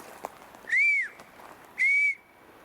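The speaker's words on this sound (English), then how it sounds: "I got a whistle, sorry." A whistle blows twice, two loud, close, sustained shrill tones, each about a third of a second long with a brief gap between.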